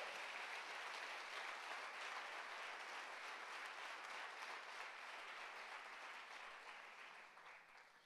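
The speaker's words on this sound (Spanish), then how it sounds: "Dale tu mejor aplauso al Señor" Church congregation applauding the Lord during a sermon, a steady, even wash of many hands clapping, quiet and distant, thinning out over the last second.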